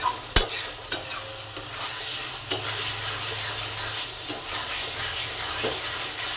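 Potato and taro stir-fried with cumin, bay leaf, tomato, ground cumin, chili paste and turmeric give a steady close sizzle and hiss, broken by several sharp clacks of a utensil against the pan.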